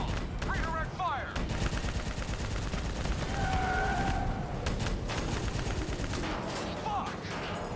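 Dense, continuous automatic gunfire fills a Call of Duty: Black Ops III firefight, loud and close with bursts overlapping throughout, while brief whistling synth tones and game effects sit beneath the shooting.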